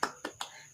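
A primary school class does a rhythmic spirit clap, three crisp, fairly close claps in quick succession with a fourth starting, nearly evenly spaced.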